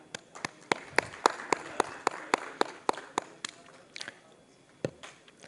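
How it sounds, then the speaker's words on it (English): Audience applause at an occupational safety, health and environment conference, with sharp scattered claps sounding in an uneven rhythm through the room and then thinning out toward the end. "please put your hands together and welcome on stage our moderator for this session"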